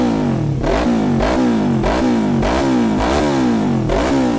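A Kawasaki Ninja 300 KRT motorcycle engine is revved hard in repeated blips, about six sharp rises and falls heard close up with no talking.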